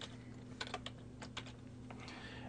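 Keys clatter on a computer keyboard while entering data into an Excel spreadsheet, a quiet, uneven run of close taps in small bursts.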